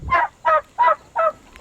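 Turkeys on a regenerative pasture farm call in four evenly spaced, loud gobbling honks, close and without talk.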